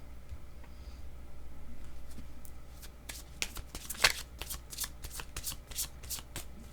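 A deck of cards being shuffled in repeated quick riffles and snaps, a crisp papery burst landing several times over a quiet room hum, close and fairly soft, with no voices.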